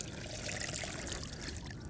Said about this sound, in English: just allow the pellets to drain